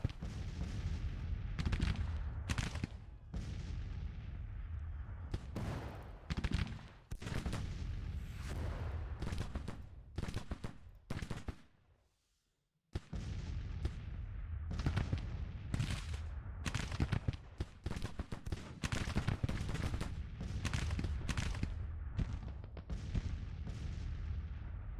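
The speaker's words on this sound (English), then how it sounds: "Artillery's taking that down." Artillery in a Grand Tactician: The Civil War battle pounds a watermill with dense, repeated booming volleys and ragged cannon blasts throughout, broken by one brief silent gap midway.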